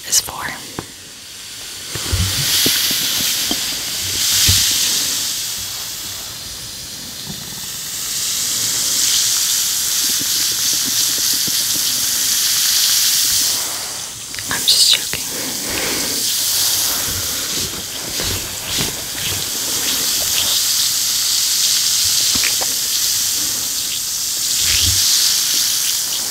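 A bath bomb fizzes in water, giving a steady close hiss and crackle that runs almost unbroken, with brief clicks and small splashes along the way.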